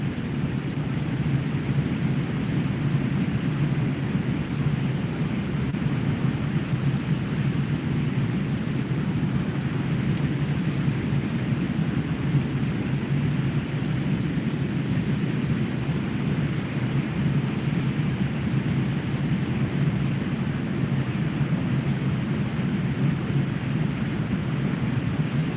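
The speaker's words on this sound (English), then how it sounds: "it's just raining" Steady rain falls outdoors at a fishing spot on a cold day, a continuous broadband hiss with a low rumble running evenly throughout, with no voices.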